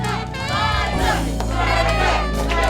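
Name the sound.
crowd cheering at a competition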